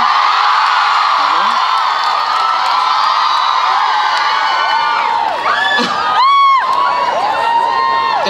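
Enthusiastic fans at an album signing cheer and scream loudly, a dense continuous roar of shouts and whoops with high-pitched squeals rising near the end.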